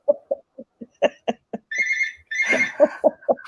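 A landline telephone rings indoors in two long electronic trill bursts, loud and close, with a voice talking before, between and after the rings.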